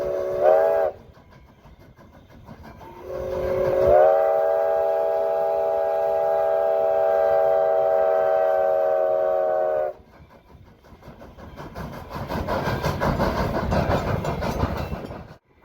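Nevada Northern Railway train in Ely sounds a long, loud multi-tone whistle blast after a short toot, followed by heavy rumbling and hissing of the moving train.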